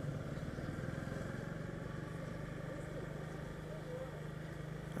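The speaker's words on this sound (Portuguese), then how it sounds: "Estacionar a moto. Bem aqui na frente." A motorcycle engine runs at a low idle close by, steady and fairly quiet, while being parked in front of a spot, with a person talking over it throughout.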